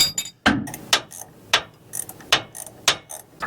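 A fine-thread nut being tightened on a Workhorse P32 motorhome steering stabilizer gives a series of sharp ratchet clicks in an irregular rhythm, each a crisp metallic snap, close and fairly loud.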